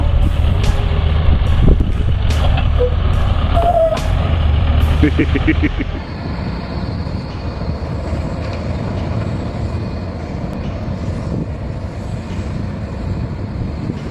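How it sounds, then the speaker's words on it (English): A large truck climbs a steep vertical wall, its engine roaring loudly with bursts of mechanical clatter, then a steadier, somewhat quieter drone continues to the end. "With gripping tires and roaring engine, the vehicle climbs dramatically up the vertical wall"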